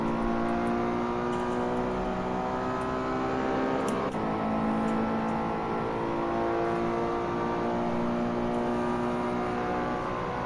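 A Ferrari race car engine in a driving simulator game holds a loud, steady high-pitched drone with layered harmonics and a brief gear-change dip, continuous and close throughout with no voices.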